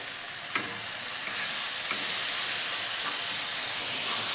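Spice paste of ground cashew, melon seeds and coriander powder frying in a pan for a doi chitol korma, a loud steady sizzle and hiss with a couple of sharp stirring scrapes, close up.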